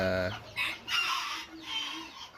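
A young bantam chicken, a roughly four-month-old black-tailed white, gives a short tonal call and then a few rough, strained crowing bursts, fairly close and moderately loud.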